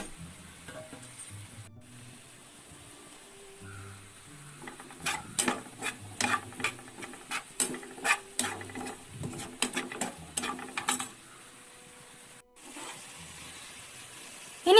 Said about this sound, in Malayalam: ഈ രണ്ട് മൂന്ന് ചെറിയ ഉള്ളി കൂടി ചേർത്ത് കൊടുത്താൽ നമുക്കിത് നന്നായിട്ടൊന്ന് ഇളക്കാം